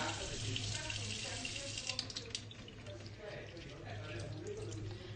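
Pickles rinsed under a running kitchen tap, a steady wash of water pouring and splashing for several seconds, with a low hum beneath and faint voices in the room.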